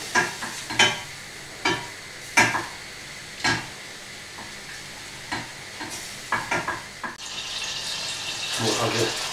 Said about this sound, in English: small sauce pan. In goes the butter. Gently melt the butter.